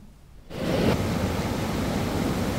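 Floodwater after heavy rains surges through drainage channels into Kolleru lake; a loud, broad rushing roar starts abruptly and then holds steady.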